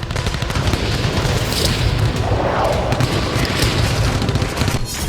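RPG fire and gunfire in a battle between tribal fighters in Sweida, Syria, heard as a dense, loud, continuous roar of blasts and shooting with no clear pauses.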